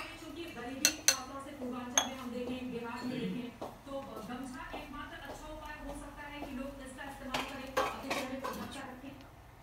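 Pots, pans and utensils clink and clatter while Maggi noodles are cooked in a home kitchen, sharp metallic knocks scattered through the clip over a steady background, with a voice talking now and then.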